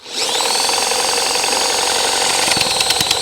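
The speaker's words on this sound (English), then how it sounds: "Okay, let's put the drill on it." A power drill whirs loudly and steadily at high speed, close by, turning over a seized Honda CL90 motorcycle engine, with a slight stutter near the end.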